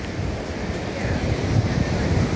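Ocean waves and wind at Kuta Beach, Bali: a steady, loud wash of surf and gusting wind noise filling the whole stretch without a break.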